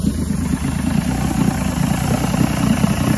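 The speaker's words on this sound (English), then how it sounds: "Now when I squeeze the trigger, I should be able to advance the throttle and put it in gear, and hopefully it doesn't stall." A 1986 85 hp Force outboard motor on a Bayliner runs in gear while warmed up, producing a steady, loud, low throbbing engine drone with a regular pulsing rhythm, close and without talk.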